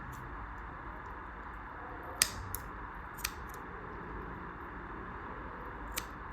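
Scissors snip through crochet yarn while finishing beginner earrings: a few short, crisp clicks in a quiet room, with one sharper cut standing out and softer snips following a second or so apart.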